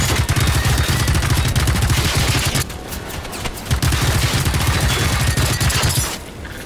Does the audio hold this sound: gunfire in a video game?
yes